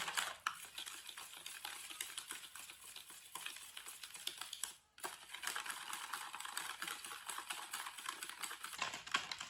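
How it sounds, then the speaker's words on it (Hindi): Plain yogurt and sugar whisked together in a bowl for a chaat, making a brisk, continuous scraping and clinking with a short pause midway, fairly close and without talk. "अच्छी तरह मैंने फेंट लिया है दही को, चीनी को अच्छी तरह मिक्स कर लिया"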